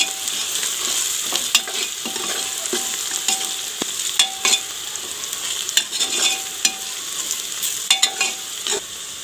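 Spices with Kashmiri red chilli powder fry in a pressure cooker for tari chicken, giving a steady close sizzle broken by repeated scraping clinks of a spoon being stirred, with no talk.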